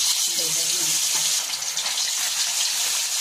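Pieces of catla fish fry in mustard oil with a dense, loud, close sizzle throughout, a brief low tone and faint clatter early on, no voices.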